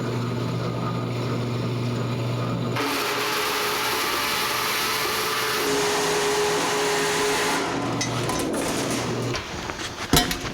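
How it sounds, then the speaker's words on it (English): A bandsaw cuts a part for a 1949 Chevrolet gasser, a steady loud mechanical whine whose tone shifts as the cut progresses before winding down with a few knocks at the end. "let's cut as much out on the bandsaw as we can."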